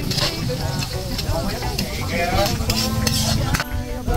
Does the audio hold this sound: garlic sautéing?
yes